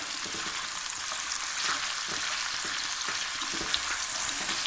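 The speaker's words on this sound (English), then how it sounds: "And now just quickly turn it or stir fry it." Seared mutton chops are stir-fried in a pan, making a continuous bright sizzle with scattered soft knocks and scrapes from turning the meat.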